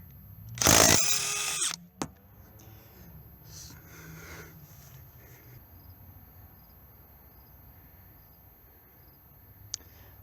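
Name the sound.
cordless compact impact wrench with 19mm socket removing lug nut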